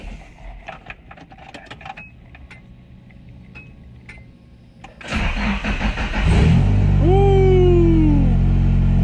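After an ECU swap, a car's starter cranks briefly amid quiet clicks and rattles, then the engine catches and settles into a loud, steady idle with a rising whine, heard up close.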